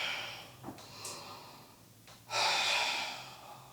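Heavy breathing during a yoga sun salutation: a few quiet breaths and sniffs, then a strong, long exhale that swells loudly near the end, close to the microphone with no speech.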